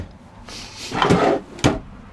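A drawer in a 2010 Jayco Octane Super Lite 161 toy hauler travel trailer slides open with a scraping rumble, then shuts with a sharp knock, close by and fairly loud.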